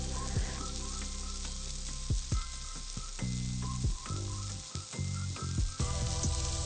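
Beef burger patties sear in a hot pan with a steady, close sizzle and crackle, punctuated by sharp pops and spatters from the fat.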